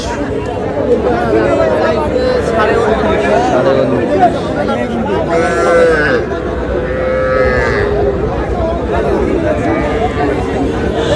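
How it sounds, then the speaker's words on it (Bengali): Cattle, including young bull calves and heifers, low repeatedly at a livestock market, the moos rising over steady crowd chatter and nearby voices talking throughout. "ষাঁড় বাচ্চা"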